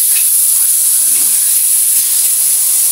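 Pork frying in a pan in a home kitchen, giving a loud, steady, bright sizzling hiss that holds constant for the whole few seconds.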